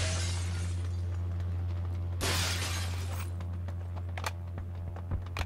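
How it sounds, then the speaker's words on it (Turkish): A glass window shatters in the game New State Mobile: a sudden bright crash a little past two seconds over a steady low engine-like hum, followed by a few sharp ticks and small impacts. "Cam kırıldı en sonunda."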